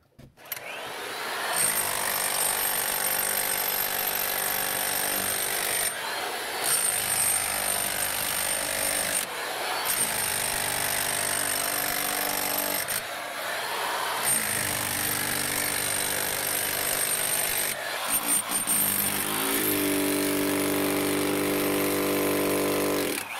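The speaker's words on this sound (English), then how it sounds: "I just ran the jackhammer" A loud electric demolition hammer pounds continuously and close by in a small underground mine, with brief dips and pauses as it is repositioned, and a shift in tone near the end.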